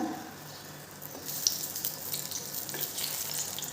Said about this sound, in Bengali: আর এদিকে দেখো বেগুনগুলো ভাজা হয়ে যাচ্ছে